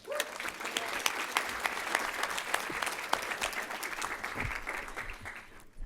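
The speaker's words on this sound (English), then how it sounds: "please give a big round of applause as we thank our elected leaders and their staff for their ongoing support" A seated audience at a civic leadership celebration gives a warm round of applause, steady dense clapping that holds and then tapers off near the end.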